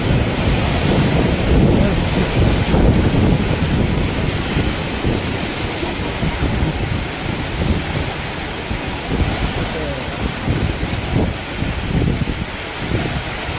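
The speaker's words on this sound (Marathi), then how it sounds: "चक्रीवादळ आहे. चक्रीवादळ" Cyclone wind and heavy rain roar steadily and loudly close to the microphone, with gusts buffeting it and a dense broadband wash that never lets up. Mountain setting, heard alone without talk.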